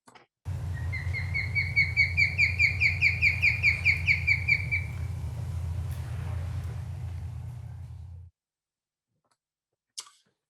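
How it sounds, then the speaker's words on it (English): A female osprey gives a run of strung-together chirps, about fifteen quick, rising whistled notes in steady rhythm over a constant low rumble. The calls fade out and the rumble stops abruptly, then a single faint click follows. "this is the strung together chirps, a female, as you can tell by the necklace"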